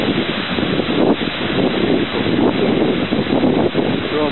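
Roar of Europe's most powerful waterfall in Iceland, a loud continuous rushing of falling water buffeted by wind on the microphone.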